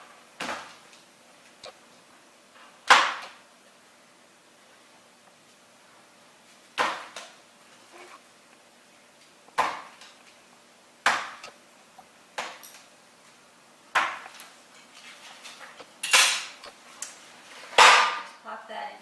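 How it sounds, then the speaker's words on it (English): Knife chopping through squares of baking chocolate on a board, roughly a dozen sharp, separate knocks spaced a second or two apart, close and fairly loud. "it helps if you can break it up a little bit with a knife"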